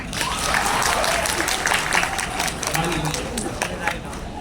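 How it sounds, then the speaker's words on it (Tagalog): Children clapping together at a Filipino family anniversary gathering, a dense, steady applause filling the room for several seconds, with voices mixed in. "Sige po mga anak, pumalakpak po kayo."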